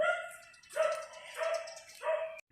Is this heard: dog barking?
yes